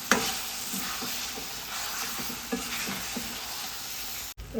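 Mango slices are stirred through melted jaggery in a pan over low heat, giving a steady soft bubbling sizzle with repeated scraping strokes of the spoon and a brief knock near the end.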